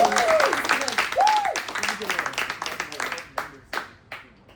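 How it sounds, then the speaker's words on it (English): Scattered clapping from a small group applauding Kyle mixes with voices and a brief whoop; the claps thin out into a few separate hand claps near the end. "can we all give Kyle a round of applause for this?"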